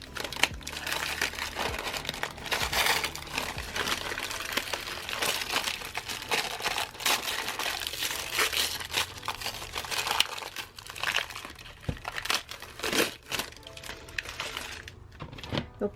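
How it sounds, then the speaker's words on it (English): Tape and paper are peeled and crinkled off a solidified handmade resin mold for jewelry pendants, giving close, busy crackling and rustling with short tearing bursts throughout, and no voices. "you're going to carefully remove whatever tape or paper"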